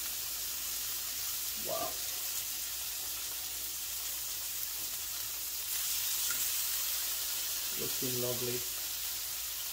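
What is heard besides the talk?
salmon searing in a pan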